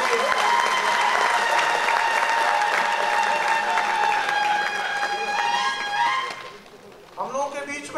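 Audience applause at a book launch event where a guest is welcomed with a bouquet, loud and sustained for several seconds; strong harmonic tones ride over it, then it thins out and a voice speaks near the end.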